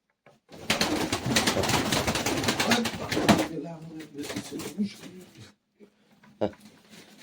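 Fancy flying pigeons come out of their loft in a burst of flapping wings and soft cooing, loud and close at first then thinning to scattered flutters, with people talking over them.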